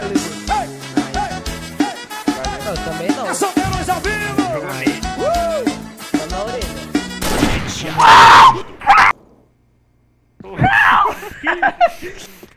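A person's loud scream bursts out during a Short Fuse match between bTw and Seven Foulls, rising over excited talk and laughter, then a brief silence before more shouting.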